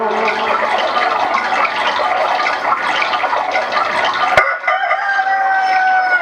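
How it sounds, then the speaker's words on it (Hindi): A rooster crows in the forest, one loud, drawn-out call that fills the first few seconds, followed by quieter trailing calls and a faint trickle of nearby water. "देखो मुर्गा तो जंगल में बोल रही है"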